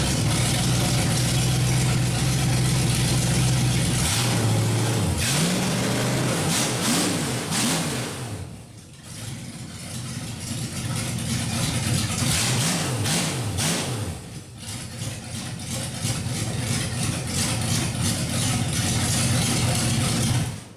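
A 1931 Chevy rat rod engine with open headers idles loudly, then is revved repeatedly in rising and falling blips, settling back to a rough, throaty idle between bursts, close and without talk.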